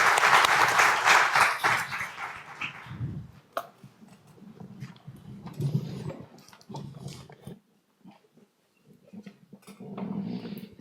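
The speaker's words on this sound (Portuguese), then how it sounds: "peço uma salva de palmas para os nossos convidados" Audience at a business ESG forum applauds its guests, loud dense clapping for about three seconds that quickly fades, followed by quieter room noise and low murmuring voices.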